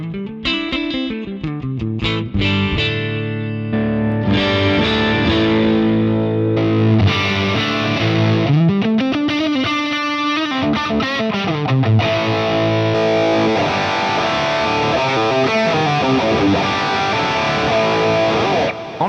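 Electric guitar played through Fractal AM4 presets, loud and continuous with heavy distortion, delay and reverb, shifting between riffs, sustained bends and chords with no talking.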